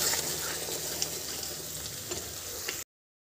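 Spice paste frying in a pan for chana: a steady, even sizzle, moderately close, with faint stirring, cutting off abruptly near the end, no talk.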